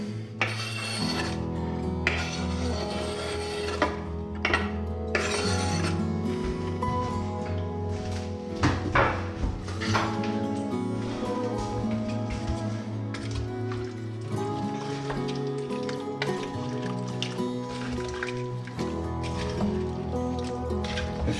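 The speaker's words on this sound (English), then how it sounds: "Stir it all in." A spoon stirs beef stew with onion and other vegetables in a slow cooker, a continuous wet scraping and rubbing with occasional knocks against the pot.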